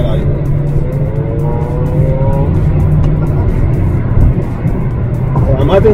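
Engine of a Volkswagen Golf SportsVan with a seven-speed gearbox, holding a steady loud drone at speed, with dense road and wind roar throughout and no talking over it.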